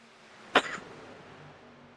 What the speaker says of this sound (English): excuse me there, I had to cough.